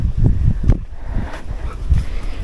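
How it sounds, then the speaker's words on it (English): Rough, gusty rumble of strong wind buffeting a microphone at Red Dune, low thumping bursts that swell and fade irregularly. "don't have too much wind noise in the audio"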